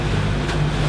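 A sailboat's motor drones steadily while motoring into a headwind off southern Italy, a continuous low hum with steady rumble beneath a hiss of wind and water, no voices.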